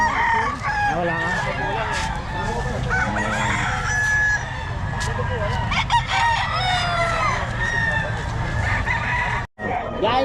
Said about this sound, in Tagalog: Ito mga manok mo, boss.